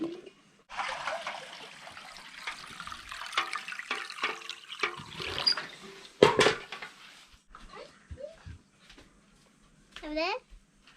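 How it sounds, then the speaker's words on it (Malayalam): Pieces of breadfruit are swished and rinsed in water in a vessel, giving splashing and sloshing with some clinks of the pot, alongside someone talking and babbling and a voice in the background. "ഒരു വെള്ളം കൂടി കഴുകാം."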